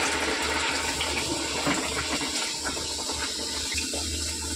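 Nan puri dough dropped into hot oil hisses and bubbles in a continuous, dense roar, close and steady with a low hum underneath.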